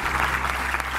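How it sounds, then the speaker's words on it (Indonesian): A studio audience of university students on an Indonesian talk show applauds in a short, continuous burst of dense clapping. "Tepuk tangan dulu dong."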